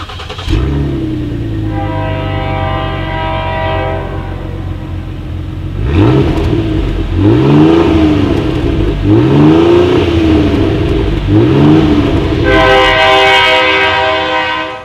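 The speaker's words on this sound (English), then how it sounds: "As always, here is that exhaust clip." A 2019 Ford Explorer's dual exhaust rumbles at a steady idle, then revs up and falls back in several loud, close swells before settling to a droning idle again, with no talking.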